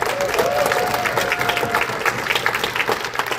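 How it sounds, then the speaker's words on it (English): An audience at a comedy club applauds loudly and steadily throughout, with dense clapping and faint crowd noise. "And also keep that applause going for your wait staff."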